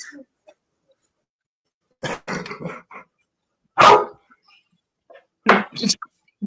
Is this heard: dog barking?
yes